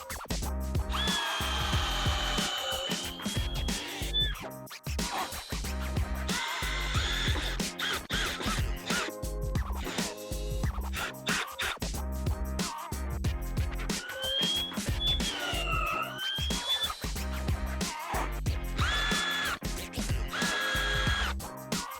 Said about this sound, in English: Make sure you don't drill all the way through